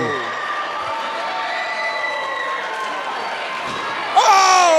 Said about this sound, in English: Listen to this crowd cheer for Josh Onyx